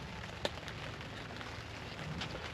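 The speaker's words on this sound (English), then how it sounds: "40 degrees outside and rain." Rain patters steadily on a hot tent during a cold, wet early-March day in upstate New York, a dense, even hiss with a few sharper drop taps, close and alone.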